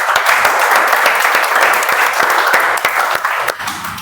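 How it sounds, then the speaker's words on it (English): A meeting audience claps for the role takers, dense and steady applause with a few sharper individual claps, tapering slightly at the end. "please give them a big round of applause"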